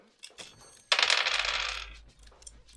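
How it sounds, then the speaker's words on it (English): Dice rolled on a table during a tabletop role-playing session, a few light clicks followed by a loud, close rattle lasting about a second that trails off into quieter tumbling. "These freaking dice, I swear."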